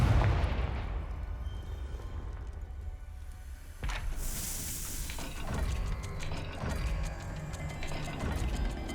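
A Confringo blasting spell explodes in Hogwarts Legacy amid a roaring, rumbling wash of game sound, with a sharp crack partway through and a sustained loud blast that stays dense and continuous.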